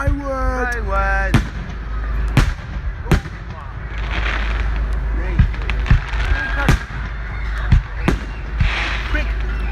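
Bonfire Night fireworks at Manor Fields on 5 November crack and thud in sharp, irregular bangs at a moderate distance, with excited voices and a whistling rise early on.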